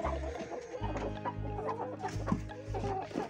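Chickens cluck repeatedly in a snowy winter coop where roosters harass a hen, the calls close and broken over a steady low rumble.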